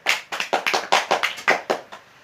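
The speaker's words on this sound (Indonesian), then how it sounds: "Tepuk tangan untuk Tutut dan Putu." Classroom applause for two students, Tutut and Putu: a short burst of hand clapping in about nine uneven bursts, close and fairly loud, fading out at the end.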